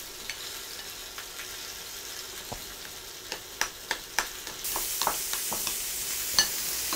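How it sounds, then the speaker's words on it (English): Soft avocado mashed with a spoon in a casual home kitchen: a string of faint, wet squishing clicks and scrapes, irregular and close, with no talking. "we are gonna just mash half of the avocado, just mash it up"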